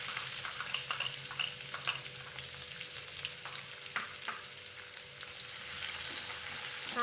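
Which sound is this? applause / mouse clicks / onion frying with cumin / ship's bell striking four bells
onion frying with cumin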